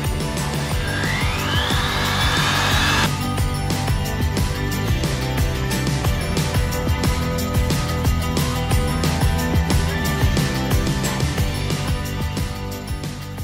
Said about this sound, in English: take this little bitty round burr and just trace the edges out